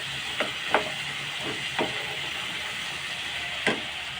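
Spices, tomato and fish frying in a pan, a steady soft sizzle with a few sharp clicks of a spoon or spatula stirring, quiet and close with no talking.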